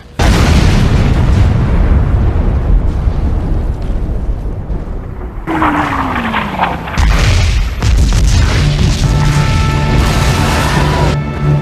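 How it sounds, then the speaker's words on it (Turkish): A ship struck by shellfire at the Dardanelles bursts in a long, loud roaring explosion with rumbling debris, then a second heavy blast swells and crashes on, thick and continuous throughout. "Bu patlama nedir böyle?"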